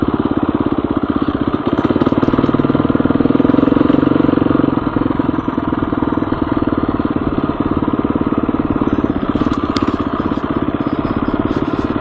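A motorcycle engine idles steadily and close by on a ride to a hidden hot spring, its low, even putter running throughout with a slight swell near the start and faint clatter on top.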